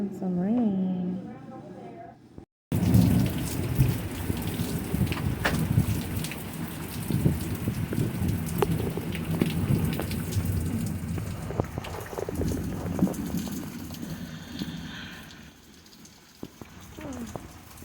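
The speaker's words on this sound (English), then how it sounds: "It's raining." Steady rain pattering outdoors with a possible low rumble of thunder, preceded by a short stretch of a person talking before the rain takes over at a moderate, even level.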